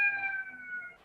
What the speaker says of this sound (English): there's ambulances going by my office